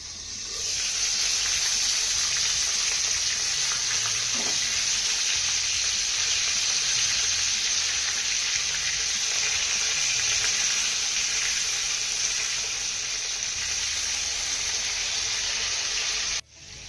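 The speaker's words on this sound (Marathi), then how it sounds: "हे टोमॅटो ना आपल्याला छान असे डाग पडेपर्यंत भाजून घ्यायचे" Tomatoes roast in a covered pan, giving a loud, steady, unbroken sizzle and hiss that holds close and even for the whole stretch, then stops abruptly near the end; no voices.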